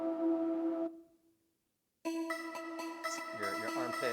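Synthesized microbial music generated from belly button bacteria data: a sustained harmonic tone that fades to silence, then a bright layered melodic passage with stacked tonal notes resumes at moderate level, no talking.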